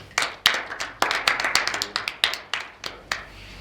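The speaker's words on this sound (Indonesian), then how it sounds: "tepuk tangan buat kelompok 3" Classroom applause for a student group: a small audience claps in sharp, close, uneven bursts that thin out toward the end, with no talking over it.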